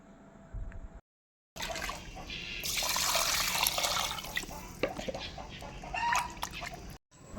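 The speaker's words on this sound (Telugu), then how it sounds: "ఇప్పుడు మనము వాటర్ వేసి శుభ్రంగా వాష్ చేసుకుందాం" Running water splashes over chicken being rinsed in a sink, swelling louder in the middle, with a short silent gap near the start.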